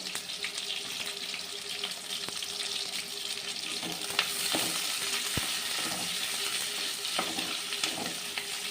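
Shallots and green chillies fry in a pan with a continuous low sizzle. Occasional clinks and stirring scrapes sit over the hiss, which stays fairly quiet and steady throughout.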